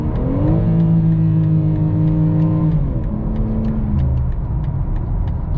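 A BMW M4 Competition engine revs hard through the gears toward a 7,400 RPM redline, heard from inside the cabin as a loud, rising harmonic roar with shifts and a dropping tone near the end, steady and without talk.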